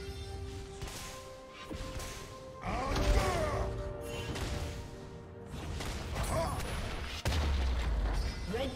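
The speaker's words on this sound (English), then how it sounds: "Red team's turret has been destroyed." A turret being destroyed in League of Legends, a mid-lane match, with booming, crashing impacts and mechanical clanks layered over game effects and an announcer-like voice, moderately quiet overall.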